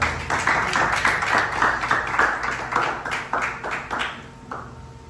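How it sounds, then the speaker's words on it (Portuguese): A church congregation claps in praise, a steady, fairly close patter of many hands that keeps up for several seconds before thinning out at the end. "Aplauda o Senhor aí, você que pode"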